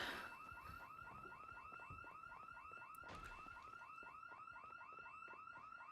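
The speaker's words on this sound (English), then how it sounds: "Of course it had an alarm." A car alarm sounds in the zombie survival game Project Zomboid. It gives a loud, steady cycling electronic whoop that repeats rapidly and without pause, heard alone throughout.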